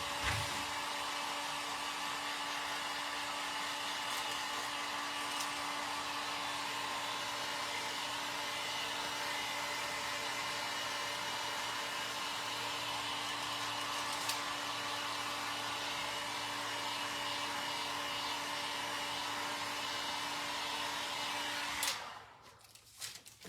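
Hot air from a heat tool blown onto a fake bake clay biscuit craft, a steady close whirring blower with a constant pitched whine that cuts off abruptly near the end, followed by a few small clicks.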